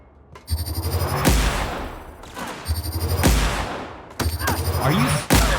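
Gunfire in the video game The Outer Worlds rings out in three loud, sharp shots spaced about two seconds apart, each followed by a ringing decay, with brief speech in between.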